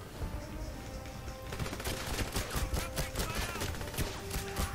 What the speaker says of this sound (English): I feel like this pistol is weak as balls.